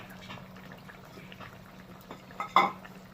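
Egg mushroom curry simmers softly in a pan with a low, steady bubbling hiss, then a utensil clinks sharply against the pan near the end.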